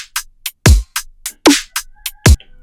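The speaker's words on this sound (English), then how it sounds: "And then the kick in the snare sounds like this." A metalcore-style kick and snare pattern plays alone with hi-hat-like bright hits: deep kick thumps alternate with sharp, crackling snare strikes at a steady moderate pace, close and loud.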